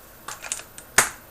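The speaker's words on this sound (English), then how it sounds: "So, to recap, clicky Alps are tactile and clicky." Keys clack individually on a mechanical keyboard with clicky Alps White switches, five or six sharp, close clicks at an uneven pace, the last one loudest, with no talking.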